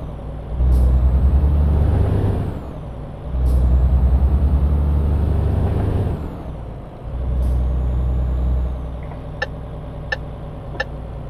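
Three loud air brake hisses from a truck in Euro Truck Simulator 2, each a long sharp burst of escaping air over a deep engine rumble, followed by a few short ticking beeps.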